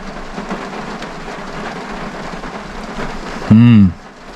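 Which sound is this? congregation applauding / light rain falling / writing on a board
light rain falling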